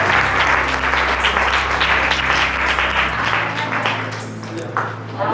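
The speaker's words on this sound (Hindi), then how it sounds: "अगर आपको अच्छा लगा है तो दिल से ताली बजाना" Church congregation clapping in steady applause, with a low sustained keyboard or organ drone underneath that cuts off midway, and the clapping thins toward the end.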